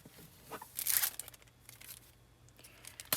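Paper and plastic packaging crinkling and tearing as Marigold stickers and floral embellishments from a Maggie Holmes craft collection are wrapped up, quiet rustles with a louder crinkly burst near the start and another at the end.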